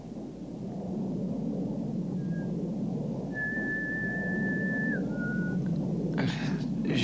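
A person whistles a short, thin note, held steady for a couple of seconds and then dipping slightly, faint above a constant low background hum.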